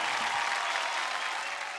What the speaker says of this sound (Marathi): त्यामुळे जोरदार टाळ्या सगळ्यांसाठीच